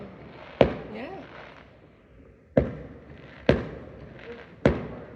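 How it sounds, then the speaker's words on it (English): Random fireworks bursting nearby behind a roof, with four sharp, loud bangs spaced unevenly over a few seconds and a faint whistling rise after the first. "if there were going to be fireworks going up, you think they'd have advertised it"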